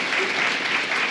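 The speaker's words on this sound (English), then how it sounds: "please give a big round of applause for our guests that we had on" Audience applause for podcast guests at a live recording, a dense, steady wash of clapping that stays loud and even from start to finish.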